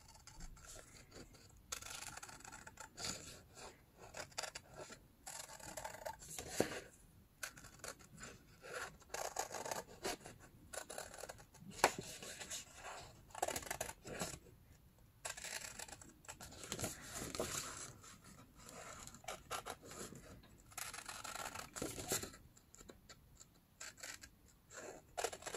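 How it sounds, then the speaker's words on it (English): Scissors snip and rasp through paper in repeated close-up cuts, with crinkling and rustling between strokes and no talking. "So you will cut with your scissors"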